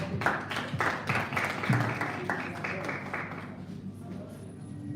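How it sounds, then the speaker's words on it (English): Light applause from an audience at a school chemistry quiz competition, several seconds of steady clapping that tapers off, with some voices in the room. "Let's clap for them"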